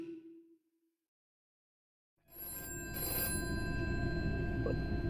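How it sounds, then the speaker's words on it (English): Telephone ringing inside the FNAF: The Flipside horror game, a steady electronic ring with sustained tonal harmonics starting after a brief quiet gap and continuing loudly to the end. "Mute that phone."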